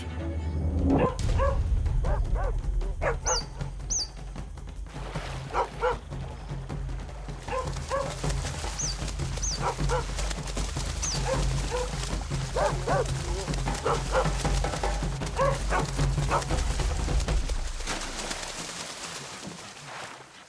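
Several feral dogs bark and yip in short bursts over a steady outdoor rumble at Sungai Buloh, some calls sharper and higher, continuing through most of the stretch.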